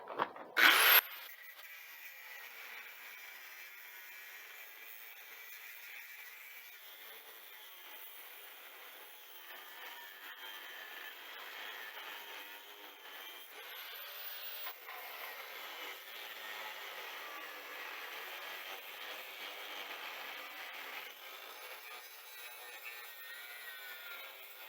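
A plasma cutter slices a metal pocket off a trailer, giving a steady, thin, airy hiss that runs unbroken for about twenty-five seconds after a brief louder burst at the start.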